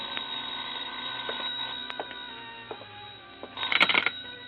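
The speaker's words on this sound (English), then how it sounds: "I was about to go downstairs when the phone rang." Telephone ringing as a sound effect in a vintage detective radio drama, a burst of bright bell-like ringing near the end after a stretch of quiet room tone with scattered faint clicks.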